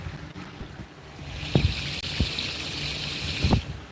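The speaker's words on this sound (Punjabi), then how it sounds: "ਐਦਾਂ ਪੈਂਦਾ ਪਾਣੀ ਇਹ ਜੇ ਦੇਖੋ ਆਵਾਜ਼ ਆਉਂਦੀ" Water gushes from a pipe onto farm field ground in a continuous splashing rush, with a few louder thumps; no one speaks.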